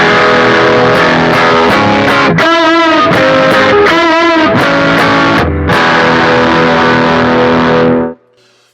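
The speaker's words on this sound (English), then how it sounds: "the amp distortion is what you're hearing" An electric guitar plays through a Boss Katana amp, with a Blues Driver pedal feeding the lead channel for a thick, meaty distortion. Loud, sustained chords ring with a few choppy strums, then cut off abruptly near the end.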